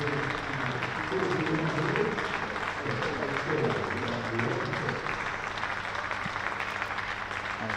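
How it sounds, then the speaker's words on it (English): Applause from a county cricket crowd for a Hampshire batsman reaching his century against Essex, a steady, moderate patter of clapping that carries on under a busy ground murmur and what sounds like voices. "a good round of applause"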